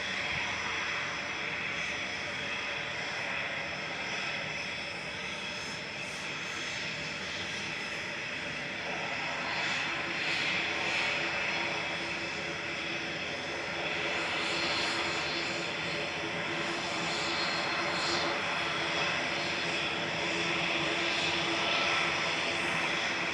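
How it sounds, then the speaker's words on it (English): A Pilatus PC-24 business jet departs Manchester Airport. Its engines make a steady, distant roar that swells gradually, and faint voices talk underneath. "It's the Pilatus PC-24 departing to Ibiza."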